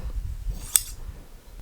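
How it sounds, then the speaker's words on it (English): Sharp fabric scissors make a single crisp snip through a jelly roll fabric strip, a brief close click partway through a quiet moment. "able to cut through the fabric in one easy snip"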